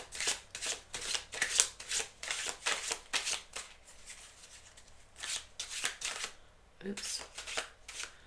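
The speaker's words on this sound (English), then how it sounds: "I'm just going to cut them and pull." Tarot cards being cut and shuffled up close, a rapid run of crisp riffling bursts with short pauses, while a person talks quietly over them.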